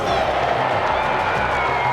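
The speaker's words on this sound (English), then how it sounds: "you can hear the audible oohs and ahs from the crowd" Stadium crowd at an NFL draft-related 40-yard dash event, oohing and cheering in a steady, dense roar that fills the whole moment, with some voices mixed in.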